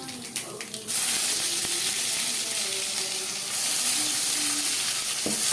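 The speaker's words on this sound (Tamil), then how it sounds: "இஞ்சி போடுறோம்." Ginger sizzles loudly in hot oil in a pan for mushroom gravy, a steady close frying hiss that swells after a brief clatter at the start and holds continuously to the end.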